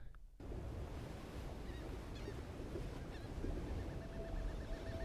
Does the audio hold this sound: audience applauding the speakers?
no